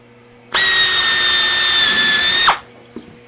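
A power drill whines loudly at a steady high pitch for about two seconds, drilling holes in a flap handle part for a Zenith 701 airplane, then winds down, followed by a small click.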